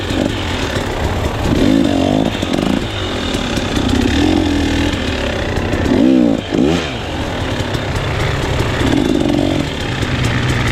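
A KTM 300 XC-W two-stroke enduro motorcycle being ridden, its engine droning and revving up and down continuously, loud and close, with rising and falling pitch as the throttle and clutch are worked.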